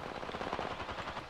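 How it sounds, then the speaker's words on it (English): Video game gunfire as rapid, dense automatic bursts rattle continuously through a short stretch, fairly loud and close, with no talking. "Shooting."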